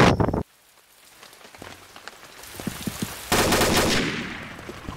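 In a Myst match, rain patters in a dense loud wash that drops away briefly, then returns with a heavy surge, alongside scattered sharp clicks and no talking.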